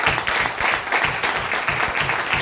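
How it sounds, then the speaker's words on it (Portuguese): A church congregation claps together in a dense, steady burst of applause that lasts throughout, with faint voices mixed into the clapping. "Então aplaude"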